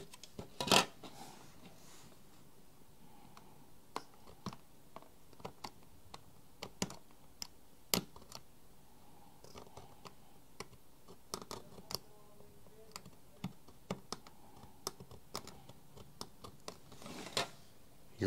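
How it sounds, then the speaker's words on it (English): Sparse, irregular clicks of typing on a computer keyboard, quiet and close, with scattered louder key presses and pauses between bursts. "typing stuff in here"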